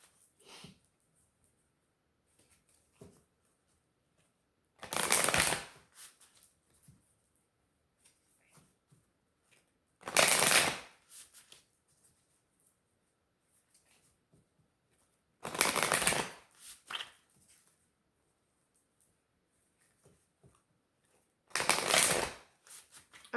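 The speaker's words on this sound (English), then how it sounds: "I do like to shuffle on camera" Tarot cards being shuffled in four short, crisp riffling bursts spaced evenly apart, close by, with faint handling rustles in the quiet gaps between.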